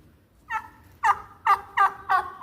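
A five-month-old peahen gives a short run of five or so nasal, honking calls in quick succession, clear and close against a quiet background.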